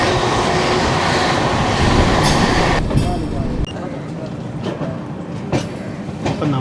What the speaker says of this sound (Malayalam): എവിടുന്നോ ഇങ്ങോട്ടുള്ള മെമ്മു, മിക്കവാറും ചെന്നൈ സെൻട്രലിലേക്കുള്ള മെമ്മു ആയിരിക്കും.